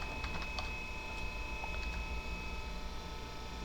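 Soft keystroke clicks on a computer keyboard while a formula is entered into an Excel spreadsheet, a few quick taps scattered over a steady low background hum.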